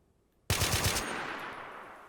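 Gunfire erupts in a Modern Warfare battle royale. A quick burst of several close shots follows a moment of silence, then fades into a long, echoing tail.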